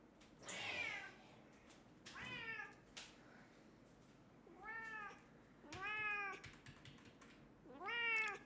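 A vocal pet cat meows repeatedly indoors, five or six rising-and-falling cries spaced about a second apart, close and clear, with keyboard typing faintly in the background.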